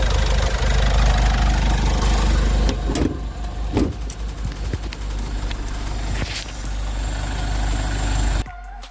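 A remapped Isuzu All-New 1.9 turbo diesel with a changed turbo revs hard and loud close by, and several sharp blow-off cuts chop through the engine roar before it settles to an idle.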